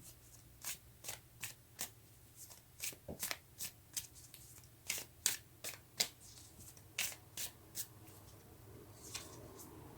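Tarot cards being shuffled by hand, a steady series of about twenty crisp riffling snaps close up over a faint background hum, with no voice.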